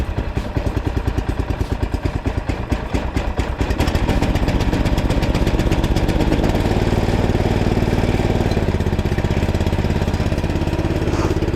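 A go kart engine runs loud and close in the snow, a steady mid-pitched buzzing drone with rapid pulsing firing that settles into an even, throatier idle partway through, with no talk over it.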